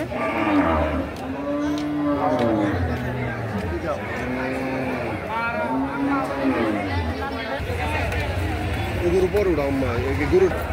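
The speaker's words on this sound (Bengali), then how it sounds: "এটা হলো গরুর হাট, দেখুন কত গরু উঠেছে।" Several cattle moo in long, drawn-out calls over the busy chatter of a crowded cattle market in Tangail, Bangladesh, with people talking throughout.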